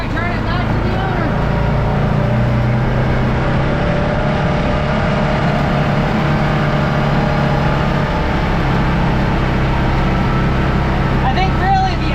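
A first-generation Yamaha Wolverine 700 side-by-side drives around a field, its engine droning loud and steady with rising and falling revs throughout, wind and rattle mixed in.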